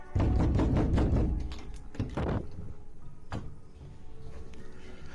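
Doors slamming inside an apartment, several heavy thuds in quick succession at the start, then two more isolated bangs, loud and near against a rumbling background.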